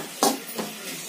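A spoon scrapes twice through millet noodles, vegetables and masala in a pan, two short soft stirs over a quiet hiss.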